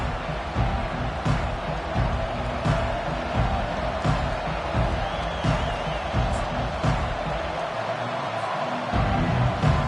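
Stadium crowd at a college football game in Oklahoma Sooners territory, a dense, steady roar of cheering voices filling the whole clip with small surges and claps, loud and continuous throughout.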